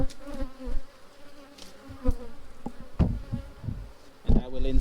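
Honey bees, nurse bees in a hive being checked for the queen, buzz steadily throughout, a dense droning hum close by, with a few louder bumps and handling knocks.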